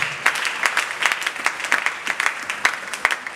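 A church congregation breaks into steady, continuous applause, many hands clapping at close range with dense overlapping slaps that rise and fall slightly throughout.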